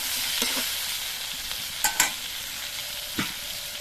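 Close, constant sizzle of vegetables frying in a pan, punctuated by a few sharp spatula scrapes and taps against the pan, no voices present.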